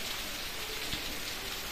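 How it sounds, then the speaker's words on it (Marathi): Heavy rain pours steadily in a village in Parbhani district, a dense, even hiss with no let-up, heard alone without any voices. "खूप पाऊस पडतो."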